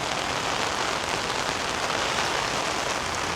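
Steady heavy rain pattering on a small rooftop mini pond and the surrounding roof, a dense continuous hiss of drops with no pauses, close and loud throughout.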